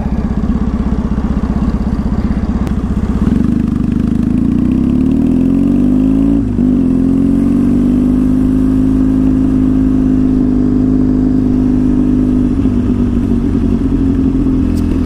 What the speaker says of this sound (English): open up the throttle, you know.